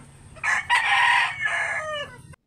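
A rooster crows loudly and close by, one drawn-out cock-a-doodle-doo lasting about two seconds, with faint farmyard background.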